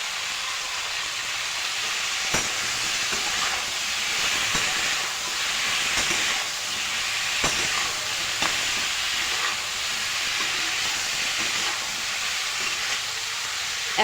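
Chopped tomatoes and green chillies sizzle in a hot pan with a steady, dense frying hiss, broken by occasional stirring clicks and scrapes, close up and with no voices.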